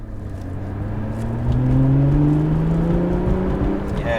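An Alfa Romeo 4C or Lotus Evora S engine revs up with a rising, steady roar that swells and holds loud close by, then eases slightly.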